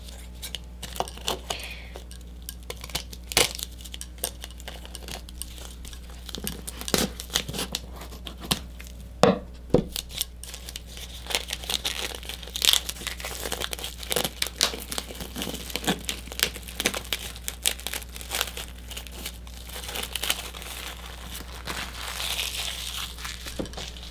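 A plastic wrapper is crinkled and peeled off a rectangular block of floral foam, with soft close crackles and rustling in irregular bursts over a quiet background hum.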